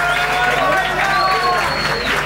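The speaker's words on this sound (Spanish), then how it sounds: "Pero un aplauso para ellas" An audience at a televised women's competition show claps for the participants, a busy spread of applause with cheering voices and talk mixed in over a steady low background.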